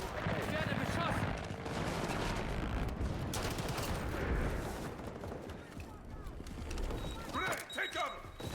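Gunfire in Modern Warfare 4 multiplayer: dense, continuous rattling shots and fusillades throughout, with a game voice call-out mixed in and crackling bursts near the end.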